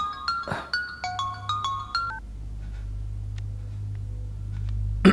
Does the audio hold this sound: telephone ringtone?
yes